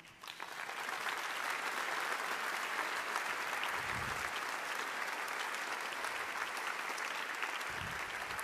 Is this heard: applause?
yes